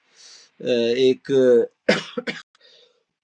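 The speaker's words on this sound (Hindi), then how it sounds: "सॉरी, मुझे ना बार बार खांसी आ रही है।" Several short, close coughs and a throat clear come in quick succession from one person, with a single spoken word slipped in between them, fairly quiet overall.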